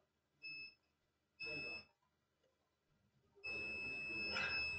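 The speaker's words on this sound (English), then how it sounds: "And the diode is beeping." A multimeter continuity-tester beep sounds three times on a shorted diode: two short electronic beeps, then a longer sustained one, close and clear.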